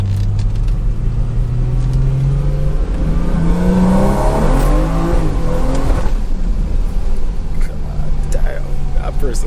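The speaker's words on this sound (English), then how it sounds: "Let me give y'all an anti-lag pull." A BMW 340i does an anti-lag pull, its loud engine note climbing in pitch as it accelerates hard, heard close from inside the car.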